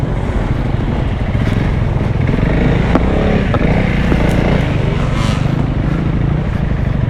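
A heavy 2025 Honda CRF300L trail motorcycle is ridden off-road on an enduro track. Its engine drones loud and steady throughout, close to the microphone, with faint scrapes and clatter and no voices.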